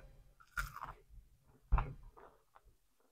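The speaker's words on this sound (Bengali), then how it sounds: "একদম মচমচি হয়েছে বড়াগুলা" Close, quiet bites into crunchy red lentil fritters made with ash gourd leaves: two sharp crunches about a second apart, followed by softer chewing.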